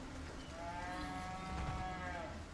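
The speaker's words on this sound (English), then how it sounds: "Oh, is a cow back alive?" A cow in the Resident Evil 4 video game gives a single drawn-out moo with rising and falling harmonic tone, moderately loud over faint game ambience.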